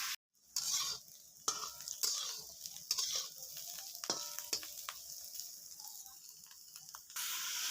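Broad beans and potatoes fry in a home kitchen pan with a soft, continuous sizzle. Utensils scrape and stir now and then, one sharp hiss bursts near the end, and no one speaks.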